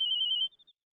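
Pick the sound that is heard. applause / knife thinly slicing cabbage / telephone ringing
telephone ringing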